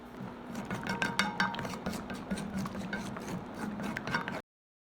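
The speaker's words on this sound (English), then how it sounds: "Continue stirring with a spatula until all the sugar dissolves" A spatula scrapes and stirs homemade ketchup in a pan, its sugar still dissolving, giving a steady near run of rubbing and light metallic clinks with no voices, then cutting off to silence just before the end.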